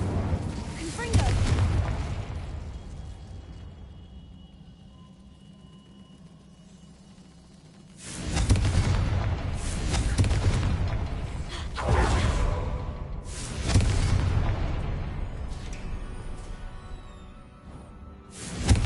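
Confringo blasting spells going off in the Hogwarts Mystery video game, three heavy booming bursts with whooshing tails, loud and close, spaced a few seconds apart after a quieter stretch.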